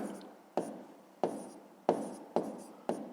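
Numbers being written down for a fifth-grade math exercise, six short sharp pen or chalk taps at a regular pace, close and faint, each followed by a brief scratchy stroke.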